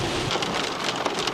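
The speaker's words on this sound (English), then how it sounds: "we had some giant hail falling on us out of the blue" Giant hail pounds a car during a road trip, a dense, steady roar of hard impacts on the roof and body, close and continuous with no voices.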